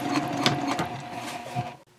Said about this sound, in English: And once again at the top, I'll backstitch a few times.